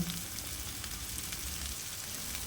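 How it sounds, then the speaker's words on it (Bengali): Taro stolons frying in a wok with salt and turmeric, giving a steady, moderately loud sizzle that holds evenly throughout with no voices. "নাড়াচাড়া করে নেব যাতে ওগুলো ভাজা ভাজা হয়ে যায়।"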